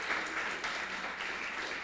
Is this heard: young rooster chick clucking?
no